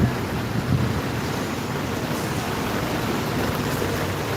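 Floodwater surges and splashes around an Isuzu MU-X as it drives through a flooded road near Nabua National High School in Camarines Sur, a continuous loud rushing wash with steady wind-like roar.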